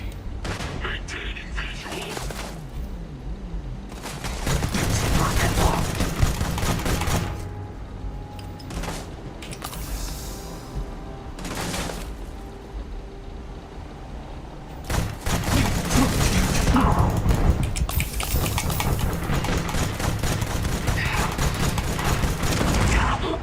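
Bursts of gunfire in the Starfield game, heavy volleys of shots in two long stretches with brief lulls between, loud and close, with a voice talking briefly over the fighting.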